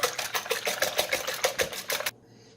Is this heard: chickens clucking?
no